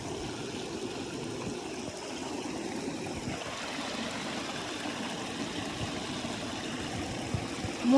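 A shallow stream flows over slippery rocks on a hillside trail in Nepal, a steady close babble and gurgle of running water that stays even and moderately quiet throughout.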